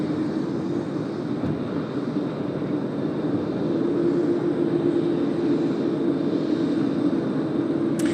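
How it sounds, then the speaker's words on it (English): A Japan Airlines jet departing Tokyo Haneda for Singapore produces a steady, loud engine roar with a strong midrange drone, sustained evenly for several seconds without talk. "Japan Air 37 on screen now. They're departing to Singapore today."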